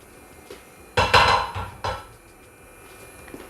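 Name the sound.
palm oil being added to a pot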